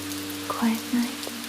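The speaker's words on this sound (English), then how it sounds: "no more noise, just the rain" Calm rain falls as a soft, even hiss, with a few faint tonal notes drifting over the steady patter.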